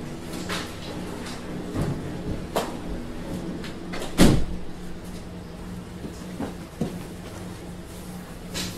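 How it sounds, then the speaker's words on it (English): Household door pushed shut indoors, several soft knocks and clicks with one louder thud near the middle, set against a steady hum from a running washing machine. "I'm gonna go shut that door."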